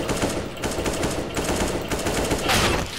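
Automatic gunfire from a machine gun during a CS:GO match, rapid dense bursts running throughout at steady loudness with a brighter crack near the end, no talk.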